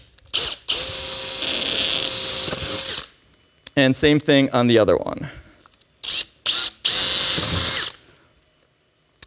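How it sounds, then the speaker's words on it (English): A power drill bores through a polycarbonate back support clamped on a snap punch, two loud sustained whines of about two seconds each, separated by a short burst of talk. "I'm just gonna put it on the snap punch and drill through"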